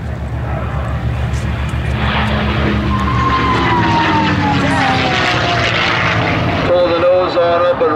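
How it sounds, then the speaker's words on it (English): A P-51 Mustang fighter plane passes overhead at an air show, its engine drone rising with a distinct high whistling tone that slides downward as it goes by, loud and sustained, while an announcer talks over it. "That whistling sound that you hear is a unique sound of the P-51 Mustang"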